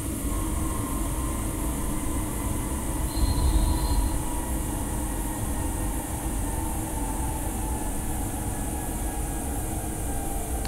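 A BR186 Fyra train runs in Train Simulator 2017, a steady loud rolling rumble with a brief high squeal partway through, no voices.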